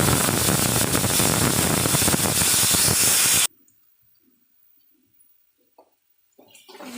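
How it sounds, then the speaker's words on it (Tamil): Chopped onions with garlic and curry leaves sautéing in a hot pan, a loud steady sizzle and hiss for about three seconds, then abrupt near-silence with faint small clinks. "வெங்காயம் நல்லா வணங்கட்டும்"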